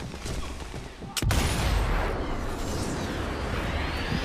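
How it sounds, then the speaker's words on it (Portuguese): Gunfire in the Sniper Elite 4 video game, set in Italy, one sudden loud blast followed by a long, rumbling explosion-like tail with no talk. "Ali eu tenho que atirar nele."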